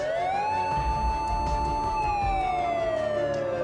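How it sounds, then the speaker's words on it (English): A police car siren wailing close and loud, one long rising then slowly falling tone over a low rumble of traffic, with no voices. "turn on your bloody siren"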